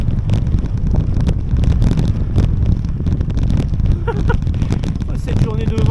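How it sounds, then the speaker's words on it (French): Strong gusty wind buffets the microphone of a cyclist riding the Camino Francés toward Burgos, a loud rumbling roar throughout, with a voice faintly breaking through near the end. "Cette journée de vent."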